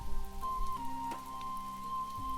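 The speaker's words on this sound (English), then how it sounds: "The rain begins to increase a little, creating circles of ripples on its smooth surface" Steady light rain falling onto a smooth water surface in a calm natural setting, a soft continuous patter with faint drips, alone without talk.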